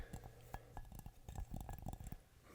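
Light taps on a ceramic object in a close-up ASMR setting, a quick series of faint, crisp clinks in an irregular rhythm, very near and quiet, with no talk.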